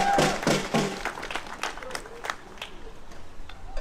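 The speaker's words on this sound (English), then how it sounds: "Give her a big round of applause." A small crowd at a Justice for Ma Khia Bryant gathering in Minnesota claps in scattered, uneven bursts, strongest at first and then thinning into a few sparse, moderately close hand claps.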